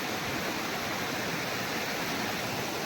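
A shallow forest stream runs low, making a steady, dense rushing hiss that stays even and fills the whole stretch.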